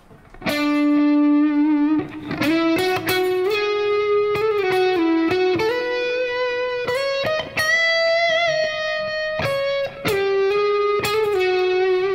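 A sustained electric guitar lead on a custom 7-string Dalbello guitar, distorted tone with long notes and quick phrases, trailing delay echoes and a wash of reverb, played loud and up close.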